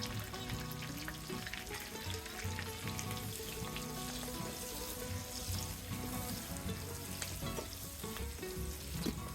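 Onion petals sizzle and fry steadily in a pan with a little sesame for a Chinese-style crispy chili chicken, a dense, continuous crackle at close range with no talking.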